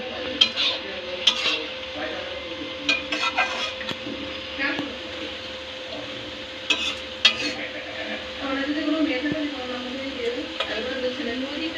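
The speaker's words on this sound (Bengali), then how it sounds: "মাংসটা আরেকবার নাড়া হচ্ছে।" Goat meat frying in a pan and being stirred, with a steady low sizzle under scattered scraping and clinking of a utensil against the pan, in bursts over a dozen seconds.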